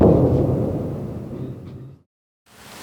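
Deep rumbling booms of Russian artillery shelling at night near Pokrovsk, a loud sustained roll that fades and cuts to silence before a fresh rumble rises at the end.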